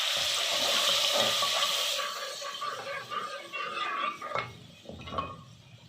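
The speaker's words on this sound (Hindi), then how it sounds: "इसमें मैं अब पानी ऐड करने लगी हूँ" Water splashes and sizzles into a hot pan of lightly browned ingredients for Punjabi kadhi, a loud hissing rush at first that settles into softer bubbling and a few clinks.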